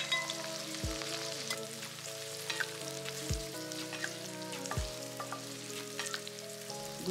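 Continuous crackling sizzle of chopped ingredients for fish head curry frying in a pan, with occasional stirring clinks, set against steady background music.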